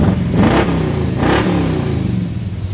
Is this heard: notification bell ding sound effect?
no